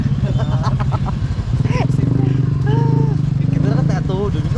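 Motorcycle engine rumbling steadily close by under continuous talking, its low throbbing pulse running throughout while several voices speak over it.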